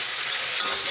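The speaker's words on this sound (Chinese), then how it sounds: "调味之后翻炒2下就可以出锅了" Braised pig stomach and long green chili peppers sizzle loudly as they are tossed and stirred in a hot wok, a dense crackling hiss heard up close.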